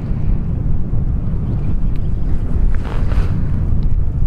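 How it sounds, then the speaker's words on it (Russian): Strong wind buffets the microphone outdoors by an open field near an old village site in snowy weather, a steady loud low rumble with gusting swells throughout and no voices. "Ветрище, все, снег идет."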